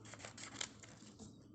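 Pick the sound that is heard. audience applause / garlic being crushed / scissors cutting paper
scissors cutting paper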